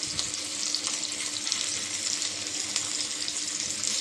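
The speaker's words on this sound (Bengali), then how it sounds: "তেলটা গরম হয়ে গেছে, বিসমিল্লাহ। মাছটা হালকা ভেজে নেব।" Small fish coated in turmeric and chili sizzle in hot oil, a steady close frying hiss that runs without a break and with no talking.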